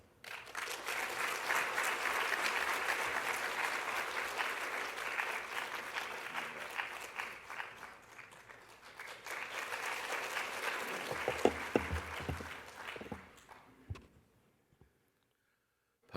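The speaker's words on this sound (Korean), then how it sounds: "우리 큰 박수로 함께 환영해 주시기 바랍니다" A church congregation claps loudly for a Sunday worship service as the pastor comes forward, sustained dense applause that swells, dips briefly, then rises again before tapering to scattered claps and silence.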